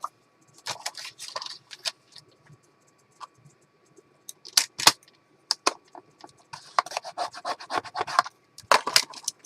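Paper scored by hand for a handmade journal, a series of short scratchy strokes in irregular bursts with quiet pauses between, close and alone without speech.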